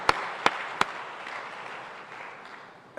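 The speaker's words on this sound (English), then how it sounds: "a round of applause for everyone" Audience applause at the AGRF 2023 African food systems conference: a few sharp, distinct claps up front, then a soft, fading wash of clapping from the hall.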